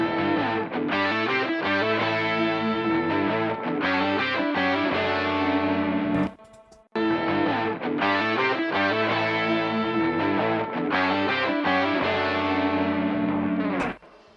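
A bass line with distortion in a music mix plays higher notes, a loud, gritty, harmonically rich tone with a short gap in the middle.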